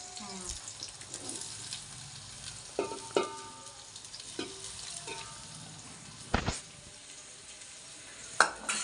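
Onions dropped into a washed pot for chicken dum biryani fry with a faint, quiet sizzle, broken by scattered clinks and scraping taps of a utensil against the vessel.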